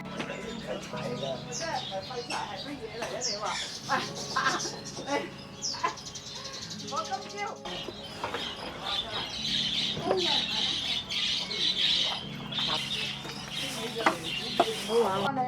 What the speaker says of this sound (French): t'as les oiseaux en liberté qui bouffent toutes les graines et t'as ceux qui sont en cage